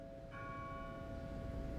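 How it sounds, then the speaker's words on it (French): A church bell rings faintly in the distance, a single sustained tone rising out of a low steady background hum and lingering as it decays. "Les brouillards se sont dispersés dans les bruits de cloches."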